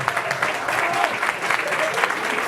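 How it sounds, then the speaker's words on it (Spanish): An audience at an academic lecture event claps loudly, a dense, lively round of hand clapping with slight surges, filling the whole stretch. "un aplauso fuerte"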